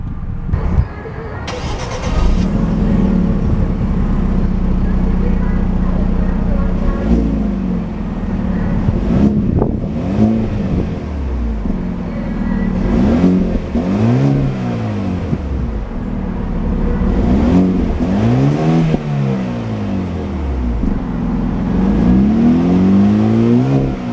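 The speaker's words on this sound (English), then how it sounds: "A beautiful smooth startup from that 2-liter twin-scroll turbocharged 4-cylinder power plant" A 2014 Hyundai Genesis Coupe with a 2.0-liter twin-scroll turbocharged four-cylinder starts up close by, settles into a steady idle, then is revved repeatedly with rising and falling sweeps, loud and alone.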